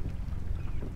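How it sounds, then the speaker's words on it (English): Strong gusting wind buffets the microphone during kayak fishing on West Bay, Galveston, as a low, rough rumble lasting the whole brief moment. "the wind really picked up all of a sudden"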